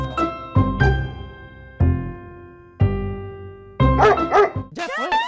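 Trained dogs barking on a stage at a TV show arena, several loud, close barks and yips in uneven bursts, with a few higher excited yelps at the end.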